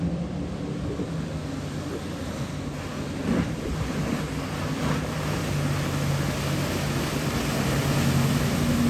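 A fully ballasted S220 motorboat planing across open water with its center plate down, a steady engine drone blending with wind buffeting and wave wash, continuous and close throughout with no talking.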